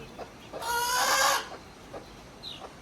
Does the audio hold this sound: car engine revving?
no